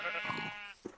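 A single drawn-out sheep bleat from the Minecraft video game, clear and close, followed by a soft thump.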